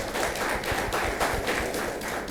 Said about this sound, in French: je vous demande de vous applaudir très, très fort